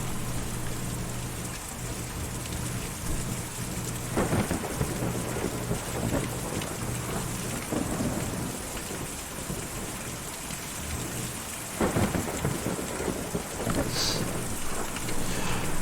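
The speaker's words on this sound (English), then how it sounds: "Difficult to see or even hear a storm like that" Steady rain pours throughout a thunderstorm in the video game Kentucky Route Zero, with low rumbles of thunder rolling in around the middle and again near the end, with no voices over it.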